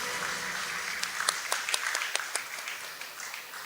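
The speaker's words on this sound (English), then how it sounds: "please join me in a round of applause for the exchange of MOU" An audience at a business forum in Medini, Johor applauds an MOU exchange between companies. The clapping is moderate and steady, with distinct individual claps, and it fades gradually across a few seconds.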